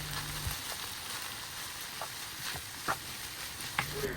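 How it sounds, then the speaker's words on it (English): Shredded carrots simmering in a pan for homemade spring roll and samosa filling give off a soft, steady sizzle, broken by a few faint scrapes and clicks of stirring. "I would also give that a good stir and leave it to simmer for a while."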